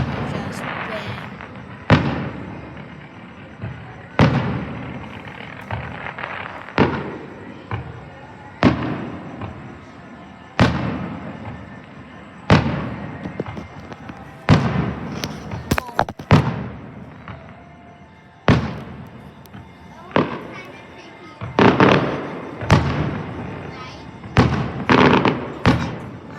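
Fireworks go off at a hotel show, a steady series of loud booming bursts every second or two, each with a crackling tail, some overlapping near the end, with people talking faintly in between.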